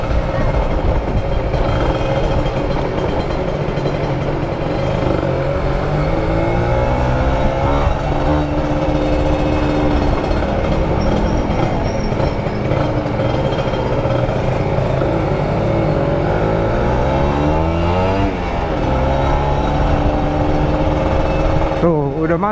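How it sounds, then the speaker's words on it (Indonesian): Steady, dense engine drone from many cars and motorcycles stuck in a total traffic jam near Plaza Pondok Gede in Jakarta, with continuous low rumbling and occasional revving close by. "Udah macet total yang arah ke Plaza Pondok Gede nih."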